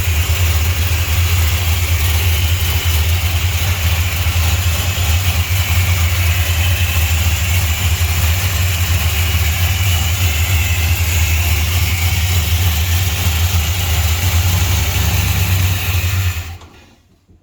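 A 1968 Chrysler Newport Custom engine idles steadily after startup with a deep, loud, even rumble close by, then cuts off abruptly at the end.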